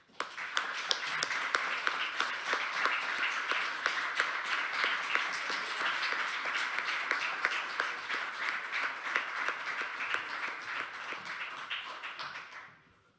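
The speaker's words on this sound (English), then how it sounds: "I now ask the audience to join me to express our appreciation to this excellent lecture with a warm applause" An audience gives warm, sustained applause after the XXXVIII Manuel Rocha Lecture (2021), with many hands clapping in a dense, even patter for about twelve seconds before stopping abruptly.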